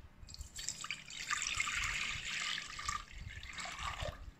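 Water is poured into a pan for golden syrup, a steady close trickle and splash that runs for several seconds and eases off near the end, with no talk.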